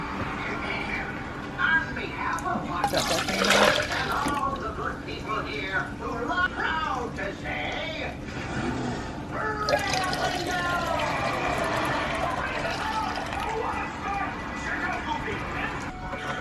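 Green juice is strained and poured, with liquid trickling and splashing near and moderately loud over kitchen clatter while a person talks throughout.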